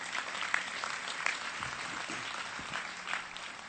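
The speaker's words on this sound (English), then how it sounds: "let's give them a round of applause" Outdoor crowd applauding the Kahn family at the FDR Four Freedoms Park dedication ceremony; sustained, fairly faint clapping heard from a distance, even and diffuse with a few sharper claps standing out.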